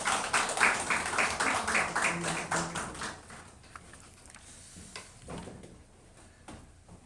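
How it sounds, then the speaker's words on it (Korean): A congregation at a church service applauds with a brisk burst of clapping that fades away after a few seconds, leaving a quiet room. "우리 박수로 한번 격려하겠습니다."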